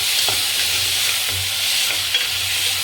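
Carrots and beans, with added tomatoes, sizzle steadily in a hot pan as they are stirred, a close, continuous frying crackle with soft scraping.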